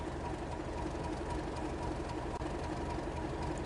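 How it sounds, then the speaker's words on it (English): A British Rail Class 31 diesel locomotive in the Train Sim World 4 game runs on its own with a steady, loud engine drone and rumbling wheels on rail. It sounds near, with no talk over it. "One of the nicer sounding British Rail locomotives in the game."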